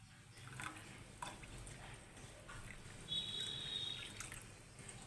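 A little water is added to a heavy pot of Bengali-style handi mutton cooking with onions, giving soft, intermittent drips and trickles over a low background hiss, close and fairly quiet, with no talking.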